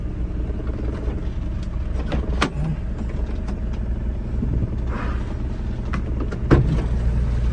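Japanese 4x4 dump truck with its bed lowering, a low idling engine rumble alongside a steady hydraulic whine, with a few clanks and knocks and one sharper metallic bang near the end.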